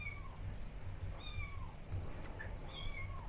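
A cat meows several times, faint and somewhat distant, with short rising and falling cries spread across a quiet background hum.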